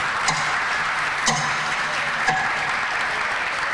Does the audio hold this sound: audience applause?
yes